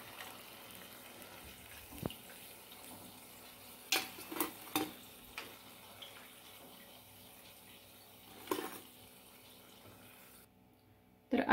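Rice flour medu vada deep-frying in oil give a faint, low bubbling sizzle, broken by several sharp utensil clinks and taps before the sound cuts to near silence at the end.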